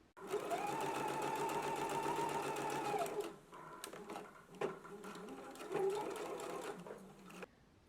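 A sewing machine runs in a steady burst for about three seconds to stitch the ends of a dress sleeve band together, then stops and restarts in a few shorter bursts. It is close and clear, with no talking.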